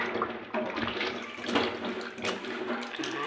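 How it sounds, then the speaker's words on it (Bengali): Water running steadily from a tap while fruit is washed in a kitchen, a continuous splashing rush at moderate level with small shifts as the fruit moves under the stream. "ধোয়া দিয়ে নেব কি মা, ভালো করে ধুয়ে নাও"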